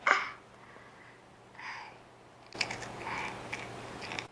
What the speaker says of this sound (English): All I hear is crunching.